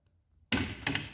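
A homemade pop-up truck camper door swinging on its hinges, a sudden close knock followed by a rattling double clack, short and nearby.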